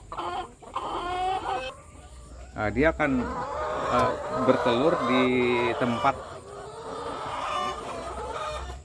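Laying hens of a village breed, let out to roam where they lay, clucking and calling in repeated bursts close by, under someone talking throughout.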